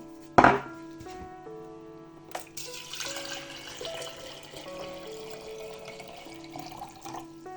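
Water streams into a pot over bay leaf, allspice, black peppercorns, cloves and coriander for a chicken roasted on a jar, a steady close pour after a sharp knock, with no talking.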